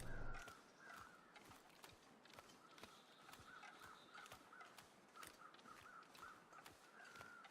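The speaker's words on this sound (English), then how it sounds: "You can see the crows above the dead wolves." Crows caw repeatedly in the snowy wilderness of The Long Dark, circling above dead wolves; the harsh calls come at a steady, somewhat distant rhythm over a faint wind bed, with soft crunching footsteps.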